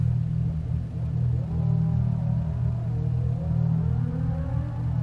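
A car engine in the Forza 6 racing game produces a continuous loud low drone. Faint rising and falling tones shift above it midway, suggesting revving, and no one speaks.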